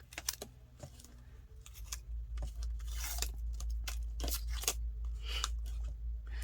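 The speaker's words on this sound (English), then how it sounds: "make sure these are down good, and let's remove the tape." Double-sided tape is peeled off paper scraps in a mixed media craft, giving soft crinkly tearing and crunching bursts at irregular intervals, quiet and close.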